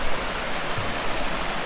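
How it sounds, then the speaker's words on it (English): Flowing water of the River Itching near Hadrian's Wall, a steady broadband rush with no breaks, fairly close and moderately loud, heard alone without voices. "So this is the River Itching."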